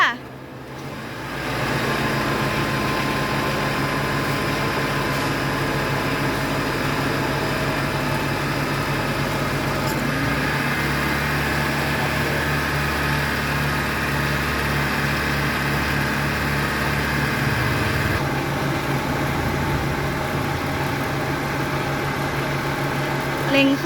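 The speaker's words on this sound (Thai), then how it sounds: "เดี๋ยวเราจะลองเร่งเครื่องกันดู เร่งเครื่องค่ะ" A Honda City engine hums at idle, then is revved to a higher steady pitch for several seconds before settling back down, with a constant fan-like whir throughout.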